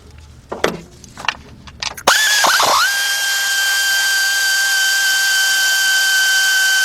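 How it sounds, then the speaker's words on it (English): A 1/4 inch air ratchet with a deep 10mm socket works on a 2003 Dodge Grand Caravan 3.3 engine. A few knocks come first, then a loud, steady pneumatic whine and hiss that runs unbroken to the end. "use my same 1/4 inch air ratchet, but this time I'm using a deep 10mm socket"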